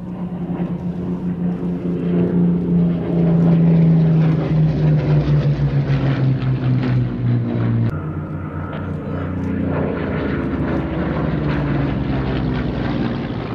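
Spitfire propeller aircraft flying past at an air festival, a loud droning engine roar that rises, shifts pitch as it passes overhead, then continues more steadily, with no talk.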